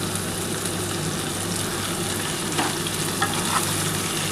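Tomatoes dropped into hot oil set off a steady, loud, close sizzle that runs unbroken, with a few brief stirring scrapes partway through, while cooking a potato and drumstick vegetable curry.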